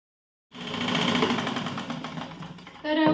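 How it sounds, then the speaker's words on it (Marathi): A sewing machine stitches around a blouse neckline, starting after a short silence and running in a close, steady whir of rapid needle strokes before a brief louder, different burst at the end. "आता आपल्याला पूर्ण गळा पहिला स्टिच करून घ्यायचा आहे"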